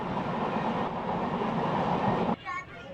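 The Duronto Express from Bangalore to Howrah rumbles along the rails near Bhubaneswar station, a steady loud rolling clatter from inside the carriage that drops off abruptly near the end.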